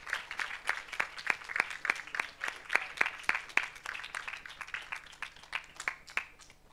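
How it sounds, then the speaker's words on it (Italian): Crisp, evenly spaced handclaps from a small group, fairly quiet and close, keeping a steady rhythm with no talking. "Ragazzi, un applauso intanto."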